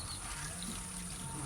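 Waste drinking water drains away in a faint, steady trickle, heard briefly outdoors without talk.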